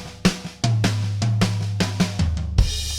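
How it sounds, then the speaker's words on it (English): A mixed drum kit without added distortion plays a punchy groove, with hard kick and snare hits landing in a steady rhythm over sustained low bass tones, loud and upfront. "this is the first mix that I let you listen to without the mojo, without the red light distortion."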